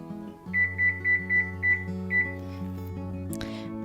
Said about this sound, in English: it looks like our timer is going off